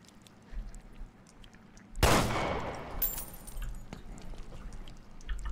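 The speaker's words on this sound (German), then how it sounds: "Zum Glück nur ein Schuss." A single sharp gunshot in Resident Evil Revelations 2 bursts out, followed by a decaying echo and some rattling, over a low rumbling game background.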